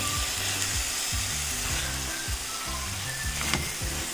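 Turkish pide filling frying in a pan, sizzling steadily while a utensil stirs and scrapes in a quick, regular rhythm, close and moderately loud with no talking.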